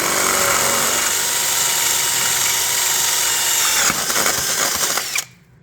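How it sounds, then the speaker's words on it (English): A power drill with a 7/8-inch Forstner bit bores out the inside of a bamboo stalk for a walking stick flute, a loud steady whine with rattling chatter late on before the motor cuts off. "I'm going to start off with a Forstner bit."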